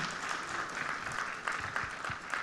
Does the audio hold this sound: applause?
yes